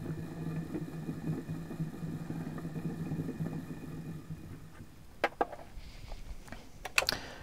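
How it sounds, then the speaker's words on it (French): A car alternator from a vertical wind turbine, driven as a motor, spins with a steady low hum and whine, then the tone fades and a few sharp clicks and taps follow near the end. "qu'on peut bien faire fonctionner un alternateur en moteur"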